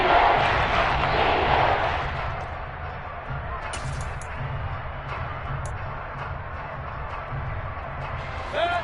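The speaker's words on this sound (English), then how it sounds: "the crowd getting into it as we come up on a big 3rd down" Crowd in a Madden football video game roars loudly at first, then settles into a steady murmur as a big third down approaches, with a few sharp game effects over it.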